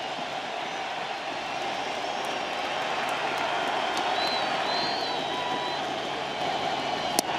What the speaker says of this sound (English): Crowd's back.